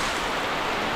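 Heavy rain pours down in a steady, dense hiss of broadband noise, loud and unbroken with no voices.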